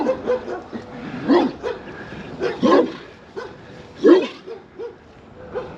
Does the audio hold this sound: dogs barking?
yes